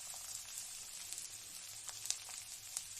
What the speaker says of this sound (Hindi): अब जो कटा हुआ लहसुन है वो हम इसमें डाल देंगे।